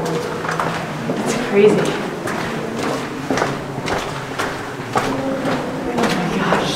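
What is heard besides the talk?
door closing, reverberating through 530-foot rock tunnel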